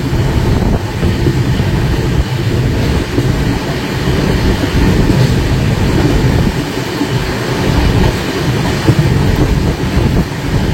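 The Guwahati Garib Rath Express rumbles steadily along the rails, loud and continuous, with no voices.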